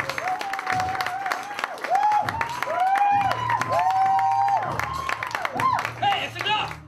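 A stand-up comedy audience claps and cheers for comedian Patrick Riley, with steady applause, whoops and loud voices calling out across the room for several seconds.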